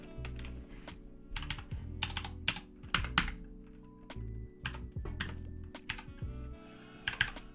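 Computer keyboard typing in irregular bursts of quick keystrokes with short pauses, close and fairly quiet over a low steady hum, while designing mockups at a desk.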